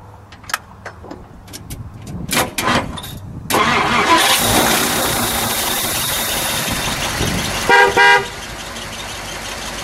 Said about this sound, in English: We'll blow the horn